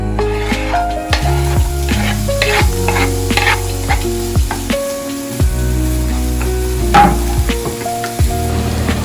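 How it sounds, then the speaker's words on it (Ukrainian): Chopped onion frying in a few drops of olive oil crackles and sizzles loudly up close, with spoon scrapes and clinks against the pan in an irregular rhythm. "І додаємо сюди подрібнену цибулю."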